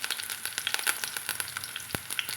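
Shallots and curry leaves crackle and sizzle in hot oil with mustard seeds, a close, bright frying hiss dotted with sharp pops and spits.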